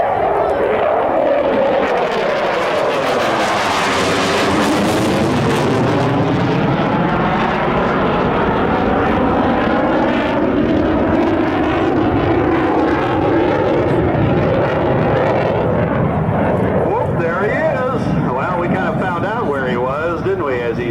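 A Vermont Air National Guard F-16C fighter jet with a Pratt & Whitney F-100 engine roars overhead at a military air show, loud and continuous. The pitch sweeps down as it passes, and voices can be heard over it.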